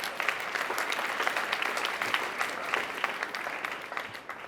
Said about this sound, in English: Please give those folks a round of applause.